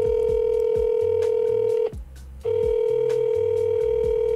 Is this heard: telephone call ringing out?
yes